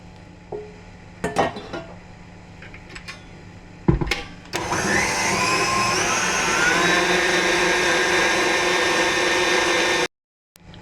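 Chocolate cake batter with butter and chocolate mixed by an electric mixer, preceded by a few clinks of utensils against a bowl, then a loud steady whirring drone for several seconds that stops abruptly.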